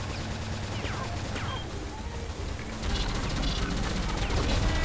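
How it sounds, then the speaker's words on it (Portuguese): Rapid gunfire from the online shooter Crossfire during a hard boss mission against mutants, a dense, noisy burst of shots running throughout and growing louder near the end. "Aí, agora eu tiro."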